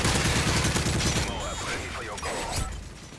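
Hip-fire gunfire in a first-person shooter match fires a rapid volley of shots up front, then gives way to scattered mechanical clatter and softer sounds.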